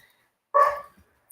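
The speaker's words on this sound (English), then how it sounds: "What are you barking at?" A dog gives a single sharp bark indoors, close and clear against near silence, with a faint click afterward.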